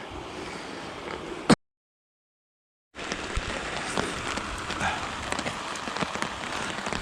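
Rain pouring down beside a fishing spot, a dense hiss of drops striking surfaces with scattered sharper patters, broken by a brief full silence before the downpour resumes steadily.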